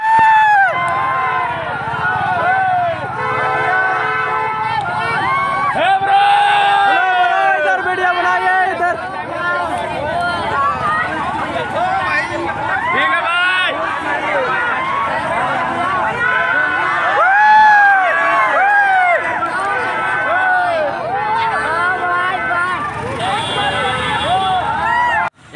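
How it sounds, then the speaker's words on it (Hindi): Large outdoor crowd gathered at Oxygen Park in Ranchi for a meet-up, a dense continuous babble of many voices with shouts and cheering rising and falling, close and loud throughout. "तो गाइस पूरा बहुत सारा भीड़ लग चुके हैं।"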